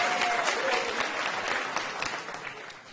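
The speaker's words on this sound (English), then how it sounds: "We'll clap for that." Audience applause at a live quiz show taping, a steady wash of many hands clapping that slowly tapers off toward the end.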